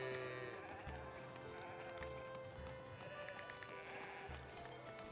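Sheep bleat repeatedly on a farm in the city-building game Foundation, several short calls over a steady bed of game music and ambient hoof-like clatter.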